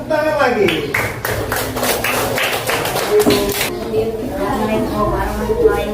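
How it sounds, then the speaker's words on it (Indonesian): A class of students claps hands in a run of sharp, fairly close claps during a teaching session, with a teacher's voice talking over and after the clapping. "Tepuk tangan lagi"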